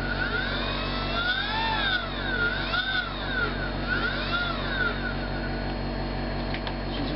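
A Turnigy electric motor spins at about half throttle, giving a steady, close mechanical whine with slowly wavering pitch and a constant low hum underneath, with no voices.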